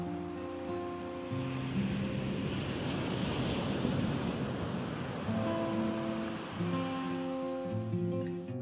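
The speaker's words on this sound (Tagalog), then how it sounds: "nakikita pa rin natin na talagang malalaki yung alon dito sa Blue Lagoon" Large surf after a strong typhoon rolls and breaks onto the shore at Blue Lagoon, Pagudpud, a continuous roaring wash with gusting wind over the mic and steady tonal music playing underneath.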